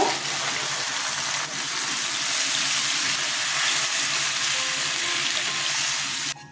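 Jackfruit kofta curry masala in a pan hissing and sizzling steadily as water hits it, a loud broad continuous frying hiss up close, ending with a sudden clatter.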